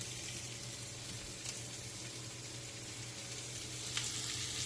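Thinly sliced potatoes sizzle steadily in a 12-inch stainless steel skillet, an even, continuous frying hiss that stays fairly close throughout.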